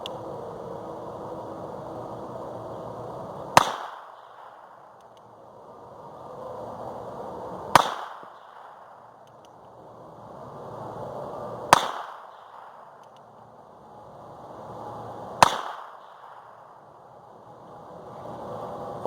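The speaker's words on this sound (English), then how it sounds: "Now I'm going to take a couple of shots." Four sharp, loud gunshots from a North American Arms .22LR belt buckle gun crack out outdoors at roughly four-second intervals, each followed by a brief decay and quiet background hiss.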